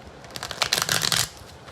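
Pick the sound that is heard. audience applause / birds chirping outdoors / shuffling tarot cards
shuffling tarot cards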